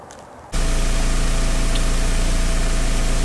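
A 1999 VW Passat 1.8L turbo engine idles, heard as a loud, steady, broadband roar with a low hum that starts abruptly after a brief quieter moment and holds constant, with no talking.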